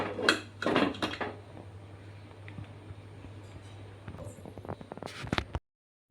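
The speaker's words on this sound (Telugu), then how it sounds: "మూత పెట్టుకుని బాగా ఉడికించుకోవాలి." A metal lid is set onto a cooking pot of capsicum potato curry, with clattering metallic knocks at the start and again near the end, separated by a quiet low hum, before the sound cuts out.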